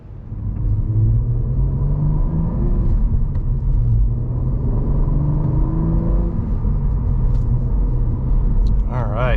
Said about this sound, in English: setting off in the CT4 V-Blackwing